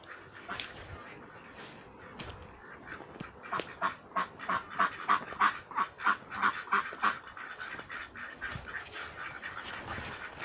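Ducks in a garden quack in a rapid series of loud, close calls that build into a rhythmic burst mid-clip, with steady outdoor background.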